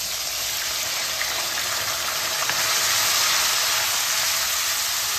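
Ginger, garlic and green chilli paste fries in a pan, giving a steady, broadband hiss and sizzle that holds evenly from start to finish at close range.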